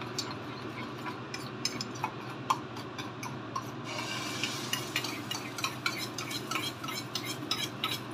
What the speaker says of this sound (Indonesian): kita dadar telurnya.